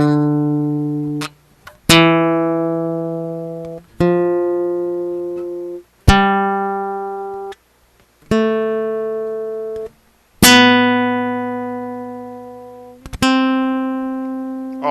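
Slow guitar solo of single sustained plucked notes, each ringing out and decaying before the next, about seven notes spread evenly, clear and alone with no voices.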